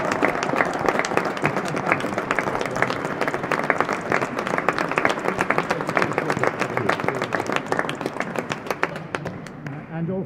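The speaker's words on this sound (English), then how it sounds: "please give a big round of applause to Ben Gatenbeck" An audience applauds at the real tennis British Open 2024 singles final. The clapping is loud and sustained, with dense, crisp hand claps close by that continue for about ten seconds and taper off at the end.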